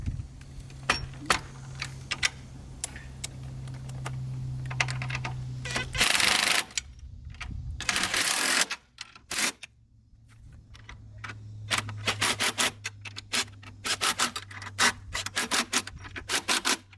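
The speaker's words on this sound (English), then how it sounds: "then simply tighten up the clamping kit bolts" Clamping kit bolts tightened by hand on an adjustable trolling plate, a run of close ratcheting clicks and metallic rubbing in short bursts over a steady low hum, with a couple of louder clattering passes midway.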